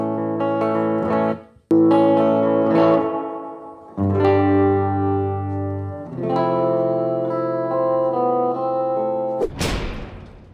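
Sustained guitar chords played through a TC Electronic Hall of Fame 2 reverb pedal ring out with a long, spacious reverb tail, a few strummed phrases separated by brief pauses, ending in a noisy burst.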